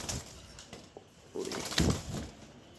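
A pair of white Mumbai pigeons cooing softly up close, with brief wing flutters and small rustles in a few short bursts.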